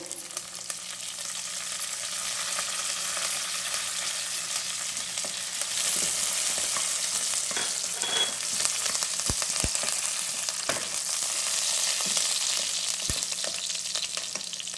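Dried red chillies and curry leaves frying in hot oil for a chicken pepper fry, a continuous close crackling sizzle with occasional stirring clicks and pops, no talking.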